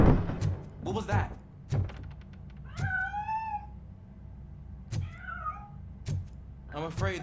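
A cat meows twice in the Robocop: Rogue City video game, drawn-out cries between game thuds and clunks, with someone talking over parts of the scene.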